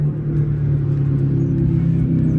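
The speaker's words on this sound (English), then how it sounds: "Sorry, there's a car passing by." A car passing by outside gives a low, steady engine rumble and road hum, moderately loud, lasting throughout with no clear approach or fade and no voices.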